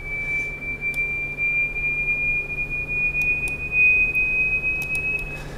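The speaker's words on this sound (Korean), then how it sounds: "자, 2000Hz 올라가면 이 정도의 소리가 실질적으로 들립니다." A 2000 Hz sine test tone played from a file during a wine-glass resonance demonstration, a steady pure high whistle holding constant for the whole stretch over faint room noise, with a few brief clicks.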